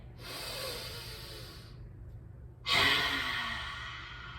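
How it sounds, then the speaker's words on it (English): A forceful lion's breath exhale in yoga, tongue out, comes as a long breathy rush, a quieter breath first and then a louder, stronger exhale that slowly fades. "So inhale, stick that tongue out, and exhale."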